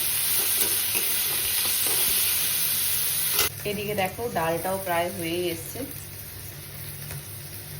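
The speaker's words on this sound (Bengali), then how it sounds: "তো দেখো এখানে আমার পেঁয়াজটা খুব সুন্দর করে ভাজা হয়ে গেছে, একটু লাল লাল করে" Onions and green chillies sizzle and fry steadily in a pan in a home kitchen, loud and close at first, then the hiss continues more quietly beneath a person speaking.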